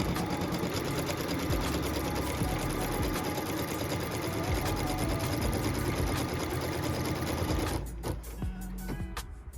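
An embroidery machine stitches a quilt block's outer cut line and inner stitch line with a fast, steady mechanical chatter that runs continuously, then slows and stops near the end.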